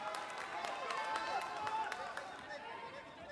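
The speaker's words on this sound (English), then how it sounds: "Lopez throwing the combination, brings applause from the crowd." Crowd at a boxing match in Japan breaking into applause after a fighter lands a combination, a steady wash of clapping under a commentator's voice, moderate and spread out.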